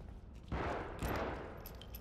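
Rapid bursts of gunfire in the video game The Evil Within crackle in two sharp onsets, the rattle trailing into a noisy wash at moderate distance.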